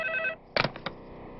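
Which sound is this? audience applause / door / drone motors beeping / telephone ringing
telephone ringing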